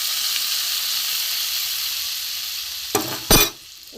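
Mouri potol, a fennel-spiced pointed gourd curry, sizzling steadily in a pan, with a couple of brief scraping stirs near the end before the frying noise fades, close and alone without speech.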